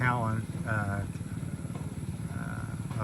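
A Rusi KRY 200 motorcycle engine runs close by with a low, throbbing pulse, while a person talks over it the whole time.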